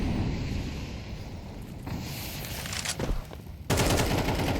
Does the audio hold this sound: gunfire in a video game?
yes